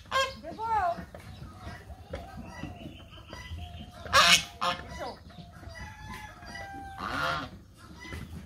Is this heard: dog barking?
no